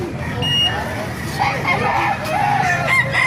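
A rooster crows at the Baliuag tyangge poultry market, its drawn-out call rising twice over a busy crowd with steady chatter and market noise throughout.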